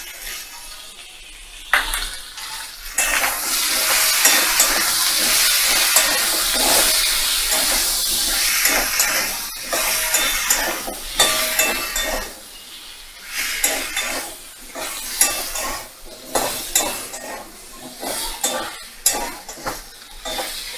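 Spice paste with a little ground cumin sizzling and stirred in a pan while cooking pumpkin shrimp: a steady, loud frying hiss broken by repeated scraping stir strokes.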